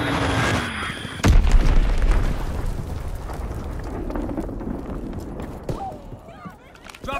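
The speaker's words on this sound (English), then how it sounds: "Enemy bomb incoming." A video game bomb goes off with one loud, deep boom, followed by a rumbling decay, with radio-style voice callouts and other game sounds in the background.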